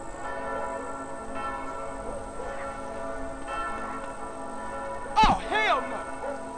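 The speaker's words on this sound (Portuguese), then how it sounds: "tem até sino tocando aí" A church bell rings in the remastered Flint County area of a GTA video game, bright resonant strokes sounding over a steady ambient game hum, with one sharp louder clang near the end.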